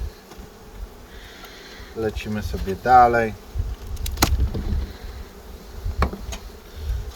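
Honey bees buzzing around a family of bees at a hive on a cold spring day in eastern Poland, a low steady drone under someone talking, with a few brief knocks.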